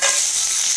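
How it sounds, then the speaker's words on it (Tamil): Crab hits hot oil with a little salt and sautés in a loud, steady, close sizzle with a bright hiss, heard alone without voices. "நண்டை போட்டு லைட்டா சால்ட் போட்டு வதக்கிக்குவோம்"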